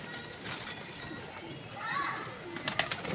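An old Lakha pigeon coos softly at close range in a loft, with a few low calls and wing flutters under background chatter and clatter.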